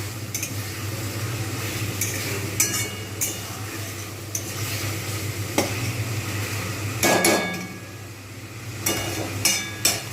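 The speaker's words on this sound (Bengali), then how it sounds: "আমি কিন্তু ভালোভাবে চিকেনটা ভেজে দেবো" Chicken frying for biryani, a continuous close sizzle broken by occasional scrapes and light clinks of a utensil stirring in the pan, moderately loud, with no speech.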